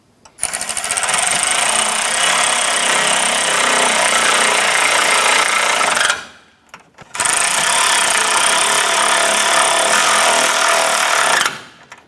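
Impact gun or power ratchet snugging down the mounting bolts on a 2004-2008 Acura TL AC condenser, two loud sustained buzzing runs of about six and four seconds separated by a brief pause, close up with no talk.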